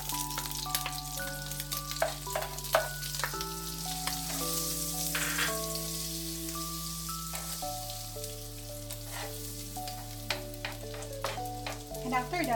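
Butter melts and sizzles in a wok beside cooked bacon for a creamy carbonara, a steady crackling fry with light spattering pops, playing quietly beneath background music with sustained tones.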